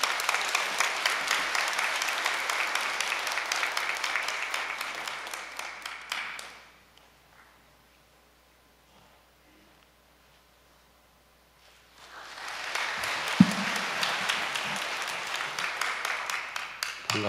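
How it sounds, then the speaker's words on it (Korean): Audience applause welcoming a chairman at a Korean church service, loud sustained clapping that fades to near silence, then swells back up with a single sharp knock in the middle of the renewed clapping. "이기성 회장님을 큰 박수로 모시겠습니다."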